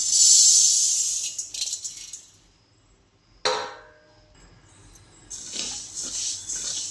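Horse gram being dry roasted in a hot kadhai gives a bright, close rattling hiss of dry grains stirred and shaken in bursts, with a sharp clink midway and quieter pauses between.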